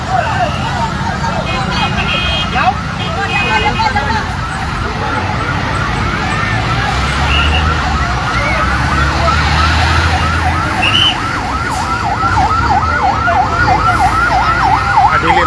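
Several loud wailing fire truck sirens overlap continuously, rising and falling as trucks arrive at a fire in Mandaue City, Cebu, with heavy engine and traffic rumble beneath and people talking amid the noise.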